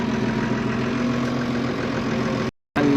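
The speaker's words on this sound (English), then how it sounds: "I've just got in the tractor" A tractor engine idles steadily up close, a continuous low mechanical drone with a faint knocking rhythm, cutting out briefly to silence near the end before resuming.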